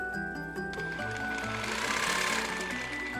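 A sewing machine runs steadily, its rapid mechanical stitching whirring close by without pause.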